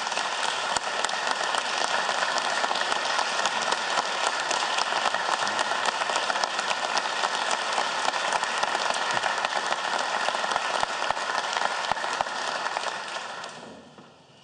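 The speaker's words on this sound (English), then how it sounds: "So please give them a round of applause" Long, steady applause fills the House floor chamber for a representative's family members, with crisp individual claps standing out over a dense wash of hands before it tapers off at the end.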